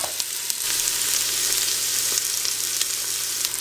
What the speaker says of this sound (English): Now you want to saute these until they're translucent.